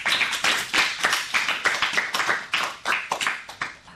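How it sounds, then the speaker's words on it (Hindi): Audience applause for a child's performance at a school cultural program, a dense, steady round of many hands clapping that carries on evenly from start to finish with no talk over it. "तो तालियां।"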